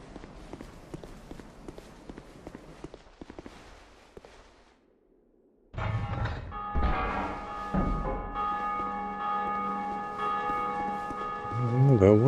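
A large bell rings out in Dark Souls 2, sustained tones with layered ringing harmonics following earlier footsteps and a brief near-silent pause, fairly loud and alone.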